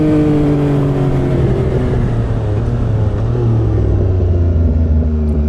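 A fourth-generation Yamaha MT motorcycle engine revs on the road, a loud, close, steady rumble whose pitch rises gradually and then falls off toward the end, with no voices.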